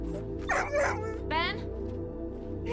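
A dog barks in a forest scene as a wild animal approaches: two or three sharp, close barks and a short whining yelp rise over a steady background score.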